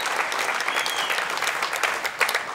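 An audience applauds winners at a game show, a dense burst of clapping that stays steady and fairly loud for the whole stretch.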